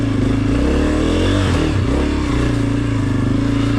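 A Honda CRF250F four-stroke dirt bike engine revving close up, a loud steady throbbing exhaust note that dips and climbs briefly before settling back to a constant drone.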